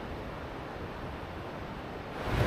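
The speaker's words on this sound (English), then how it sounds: "That waterfall is extremely strong." A strong glacier waterfall gives a dense, steady rushing roar with no other sounds, swelling slightly louder at the end.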